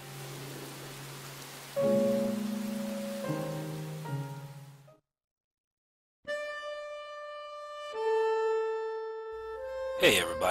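Steady rainfall from the video game Rain hisses under a slow, sustained musical score. The rain drops out into silence midway, then the music resumes alone with held tones.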